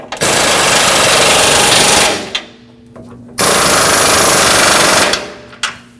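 An impact wrench drives the lower control arm bolts on a Nissan Frontier 2WD in two long, loud rattling bursts, each about two seconds, with a short whir of spin-down and a brief clunk between them.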